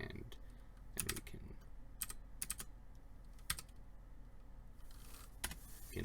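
Quiet keystrokes tap on a computer keyboard in a terminal text editor, irregular clusters of crisp clicks with short pauses between them, faint and close over a low steady hum.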